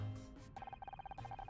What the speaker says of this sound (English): I think that's my phone